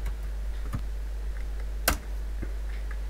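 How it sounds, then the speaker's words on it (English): Scattered taps and clicks from typing on a computer keyboard, irregular and fairly faint, one sharper click standing out, over a steady low hum with no talking. "Hold on, I'm typing something real quick."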